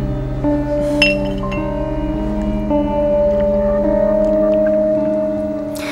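Glasses clinking together in a toast, one bright clink near the start that rings against a sustained tonal background of music.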